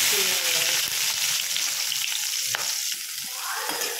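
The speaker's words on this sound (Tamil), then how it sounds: "சோம்பு பொரிஞ்சது பச்சை மிளகாய்" Fennel seeds and green chili fry in hot oil, giving a loud, steady crackling sizzle that runs the whole time, with a few sharper pops and no talking.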